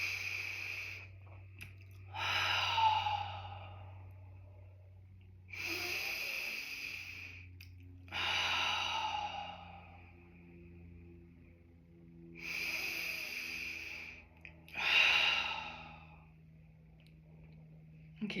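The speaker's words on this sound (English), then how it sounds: "Breathing in." Slow, deep breaths during a guided meditation, each long inhale and exhale rising as a soft airy swell, about five of them spaced roughly every three to four seconds over a low steady hum, with no talking.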